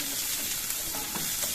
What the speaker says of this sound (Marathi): आता चांगला तेलात परतून घेऊ आपण